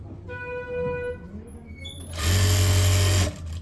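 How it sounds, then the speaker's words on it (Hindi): A sewing machine stitches a half-inch-wide seam along the edge of full-elastic trousers, a loud close whirring burst of about a second after a quieter, faintly whining lead-in. "इसके बाद हम एक सिलाई यहाँ से चालू करेंगे"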